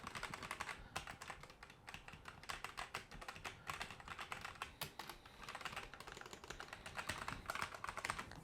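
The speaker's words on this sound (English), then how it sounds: "And then this is what it sounds like with the O-rings." Continuous typing on a budget mechanical keyboard fitted with O-rings, a softer, muffled stream of rapid keystrokes heard close and fairly quiet, with no voices.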